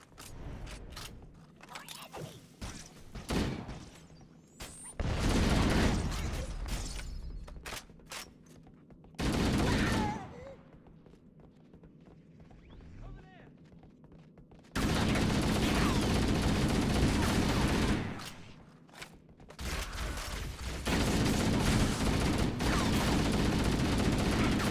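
Bursts of rapid automatic gunfire in the Halo video game, long dense volleys separated by short gaps with mechanical clanks and creaks in the quieter stretches, loud and close, a voice briefly audible in between.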